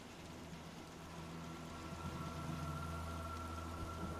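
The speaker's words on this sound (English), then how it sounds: "And of course it's still raining, but that's the marshes for you." Steady rain falling in the marshes in Fallout 4, a soft continuous hiss with a low ambient hum beneath it, quiet and unbroken.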